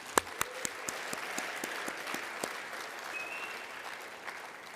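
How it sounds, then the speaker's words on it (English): Applause from the audience at a youth soccer awards gala, opening with a few sharp, separate claps and then settling into a steady, moderate wash of clapping that carries on without any voices. "one more big round of applause for them, please"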